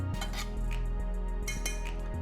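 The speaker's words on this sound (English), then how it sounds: "Now mix the whole thing" Bruschetta topping seasoned with ground black pepper and olive oil being mixed in a bowl, a spoon clinking and scraping against the dish in a steady run of close, light knocks over a low hum.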